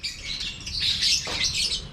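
Lovebirds chirp and squawk in a rapid, shrill, continuous chatter, close and loud, with several birds calling over one another and no talking.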